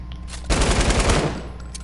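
Burst of rapid automatic gunfire in a shooter video game, loud and close, lasting under a second against a low background hum, with no talk over it.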